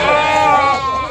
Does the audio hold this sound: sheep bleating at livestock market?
yes